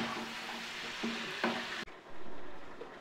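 Chicken with turmeric and other spices fries in a pan for biryani, a close steady sizzle with a few scraping stirs, then a sudden cut to a quieter, softer frying hiss. No one talks.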